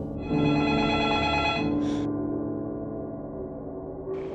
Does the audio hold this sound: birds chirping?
no